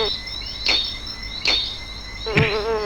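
In the video game Ahriman's Prophecy, a character's bee form gives off short buzzing bursts, three separate buzzes, the last one wavering and longer, each close and fairly loud.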